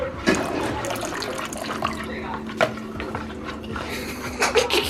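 Liquid pours and splashes into a cornmeal pudding mixture in a Jamaican home kitchen. Soft trickling and sloshing continue with a few brief clinks, close by, with faint voices in the background.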